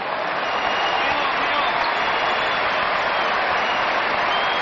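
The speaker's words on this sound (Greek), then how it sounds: "Χειροκροτήματα και για τους δύο από τους φιλάθλους του Ολυμπιακού" Olympiacos basketball fans applaud players in an arena during a Top 16 game against Varese, a dense, steady wash of clapping and crowd noise that fills the clip at a constant level.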